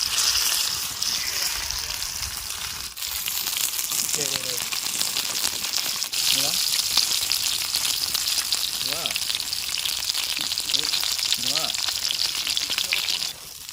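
Jalebi kal fish frying in a pan over a village-style fire, a steady bright sizzle and crackle running the whole time with faint voices talking now and then beneath it.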